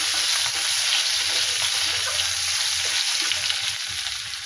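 Onion sizzles in hot oil with dried chilies and whole cumin in a pan for fish curry, a loud, continuous hiss and crackle heard up close with no talking.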